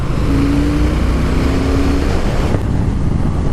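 A 2018 Triumph Thruxton R with its 1200cc twin engine accelerates hard, a loud, close engine roar with rising tone and heavy wind buffeting, easing off near the end.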